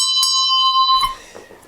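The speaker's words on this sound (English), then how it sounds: "You can ring the bell for that one." A bell is struck once and rings with a bright, sustained metallic tone that holds for about a second, then fades, close and loud.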